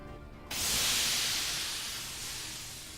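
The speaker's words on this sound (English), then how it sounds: "The airship releases steam and flies towards the Nautilus as straight as an arrow." A steam-powered airship in a steampunk visual novel vents a loud, sudden burst of hissing steam that starts abruptly, then holds steady before slowly tapering off, with no voices.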